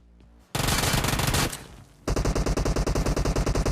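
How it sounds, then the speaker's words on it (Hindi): Automatic gunfire in an online shooter video game: a short burst, a long sustained spray, then a rapid, evenly spaced string of shots, loud and close, with no talk. "गोलियों की आवाज सुन के"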